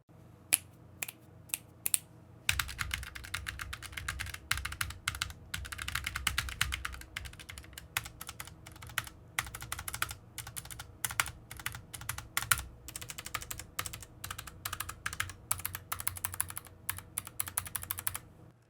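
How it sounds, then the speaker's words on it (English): Rapid typing on a cheap low-profile mechanical keyboard with clicky stabilizers and pinging keys, a dense run of sharp close-up clacks in irregular bursts that grows busier after the first few strokes and continues throughout, with no voices. "there is that weird clicky noise you get from the stabilizers on some of the keys that makes the typing experience uncomfortable"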